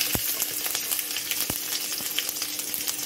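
Onions sizzle in hot oil with popping mustard seeds, a steady broadband frying hiss broken by a few sharp crackles and pops, close and fairly loud with no voices.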